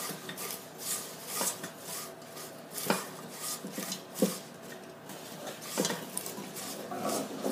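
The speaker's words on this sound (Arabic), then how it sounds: "نحاول نقلب بسرعه علشان كله ياخد معانا الكراميل" Caramel being stirred quickly in a pot while making caramel popcorn, with repeated scraping and rubbing strokes of a utensil against the pot and occasional sharper knocks, close and steady with no talking.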